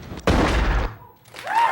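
Gunshot sound effect in a late-night talk show comedy skit, a single loud, sudden blast that rings out for about half a second, followed by a quieter tone and a rising whistling sound.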